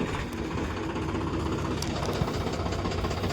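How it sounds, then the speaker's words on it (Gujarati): A tractor engine runs steadily nearby, a dense, continuous mechanical rumble with a faint knocking texture throughout. "ટ્રેક્ટર ચાલુ છે"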